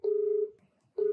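Telephone keypad dialing a call, two steady electronic tones separated by a brief gap, clear and close with no talking.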